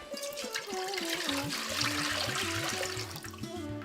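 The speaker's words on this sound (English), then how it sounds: "I'll be pouring in the water." Water gushes steadily into a cooking pot for a broken-rice ball dish, a loud, continuous splashing pour that runs the whole time.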